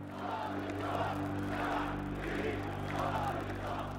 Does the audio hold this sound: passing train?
no